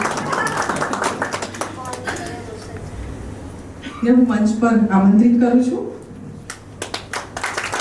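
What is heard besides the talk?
audience clapping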